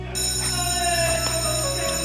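An electric school bell rings loudly and continuously inside a French collège, a steady, piercing metallic tone that fills the whole short moment.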